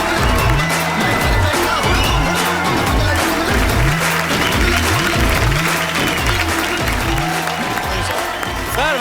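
Studio audience applause welcoming film director Omung Kumar onto a comedy talk-show stage, dense sustained clapping under loud rhythmic music with a repeating bass pattern, no pauses.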